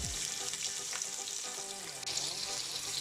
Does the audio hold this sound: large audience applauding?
no